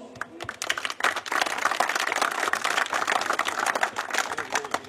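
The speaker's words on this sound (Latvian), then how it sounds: "liels paldies viņiem, aplausi" Audience applause at an RC car race event in Latvia, a dense crowd of hands clapping steadily for several seconds, fairly close and fading slightly toward the end.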